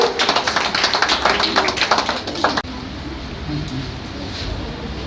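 A crowd applauds Raunak at a school award ceremony during a cleanliness fortnight event in Fatuha. Brisk, steady clapping runs for about two and a half seconds, then stops abruptly, leaving room noise and faint voices.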